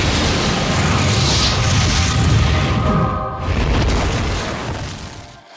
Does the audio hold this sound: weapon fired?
yes